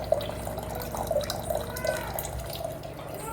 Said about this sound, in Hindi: रिजेक्ट वाटर भी आ रहा है और प्योर वाटर भी थोड़ा थोड़ा थोड़ा टपक रहा है